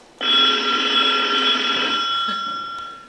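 Telephone ringing after a call is dialed: one continuous, loud, close ring that starts sharply and holds steady for about three seconds, with no voices.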